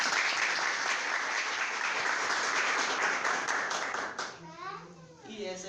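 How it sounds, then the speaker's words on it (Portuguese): An audience at a São Sebastião festival gives a guest a dense, steady round of applause that fades after about four seconds. A voice then begins speaking. "Palmas para a nossa convidada, Rayane"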